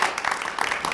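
Audience applause at a TED-style talk, a dense wash of many hands clapping at close range, steady and moderately loud for about a second with no voices over it.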